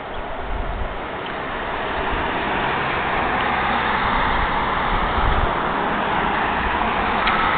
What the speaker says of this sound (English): Cars are coming.